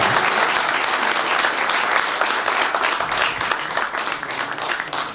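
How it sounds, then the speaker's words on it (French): Crowd applause at a political meeting, a loud sustained wash of many hands clapping that holds steady and fades slightly at the end. "Je pense qu'on peut applaudir aussi, hein,"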